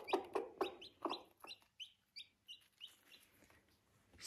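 Broody hen on a small country plot giving a run of close clucks, several quick loud ones at first and then softer, spaced calls, with no talk.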